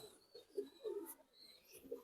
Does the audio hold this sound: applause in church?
no